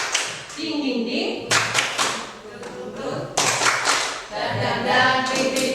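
A group chants a rhythmic tepuk semangat clapping routine in a school setting, with voices chanting in unison over sharp, patterned claps and thumps.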